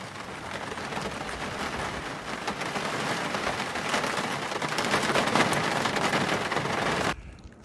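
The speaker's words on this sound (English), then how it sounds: "It's raining and it's coming through the door and underneath the planks." Steady heavy rain hisses and patters loudly and close, coming through a door and under planks, building slightly before cutting off abruptly near the end; no voices.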